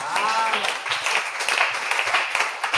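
A church congregation claps and cheers during a Sunday service, a dense, steady wash of applause filling the room from start to finish.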